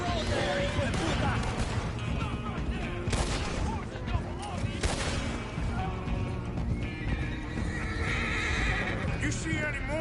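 Horses neighing and hooves pounding in Red Dead Redemption 2, dense and loud for the whole stretch, with gunfire bursts and voices mixed into the busy game soundscape.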